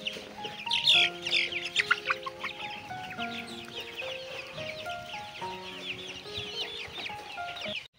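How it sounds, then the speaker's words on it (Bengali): 28-day-old tiger chicken chicks clucking and cheeping in a group, with busy overlapping calls that are loudest early on and then settle into steady chatter. "আমার এই মুরগির বয়সগুলো আজকে 28 দিন বয়স চলতেছে"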